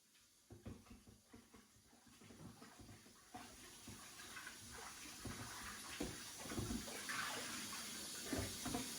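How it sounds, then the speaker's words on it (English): Pork meat being washed with vinegar in a kitchen, with soft splashing and trickling water that grows steadily busier, faint and close, with no talking. "Now that I've got my meat ready, I'm gonna wash it with vinegar."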